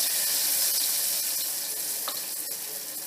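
Lentil batter dropped into hot oil in a kadhai gives a steady close sizzle with bubbling, spattering crackles and a few sharper pops, heard alone without voices.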